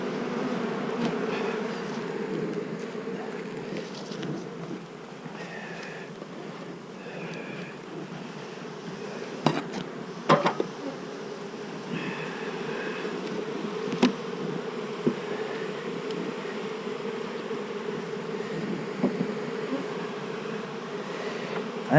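Honey bees in an open beehive, a dense, continuous buzzing hum throughout, broken by a few sharp knocks and clicks from working the hive.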